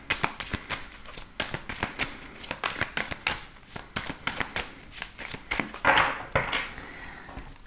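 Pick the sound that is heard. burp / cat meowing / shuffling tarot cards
shuffling tarot cards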